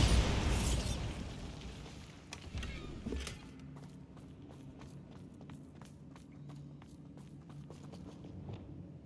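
Bombarda blasting spell from Hogwarts Legacy goes off in a loud, broad burst at the start, followed by a second smaller blast around two seconds later, then decaying rumble and scattered crackling debris ticks.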